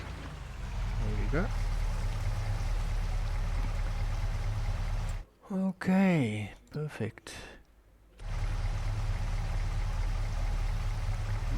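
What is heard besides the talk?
water being offloaded in a ranch-building video game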